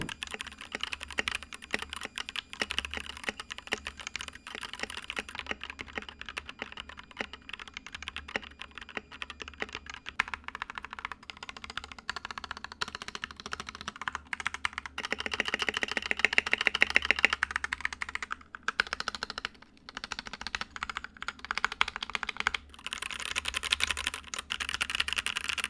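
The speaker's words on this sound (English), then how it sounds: "This is what the keyboard sounds like." Rapid, continuous clicking of keys being typed on a PewDiePie K1 Pro mechanical keyboard, close up and steady, with brief pauses and bursts of faster typing.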